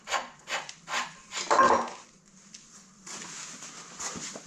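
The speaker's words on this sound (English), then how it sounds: "I cut the thread so this nut is probably a touch tighter than it should be, but it still goes on nicely" A steel nut is threaded onto a re-cut thread on a Pettibone loader's hydraulic steering cylinder, running slightly tight: a close series of short rasping scrapes, then a longer steady grinding rub.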